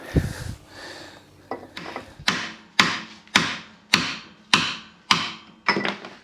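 Metal hammer blows driving a chisel against a locking wheel nut on a car, about eight sharp, evenly spaced strikes ringing out loud and close after a few quieter knocks, with no talking.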